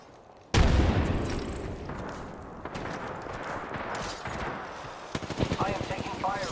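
Gunfire in the video game Apex Legends, a sudden loud burst of rapid shots that decays into continued crackling fire, with game voice lines and talk over the later part.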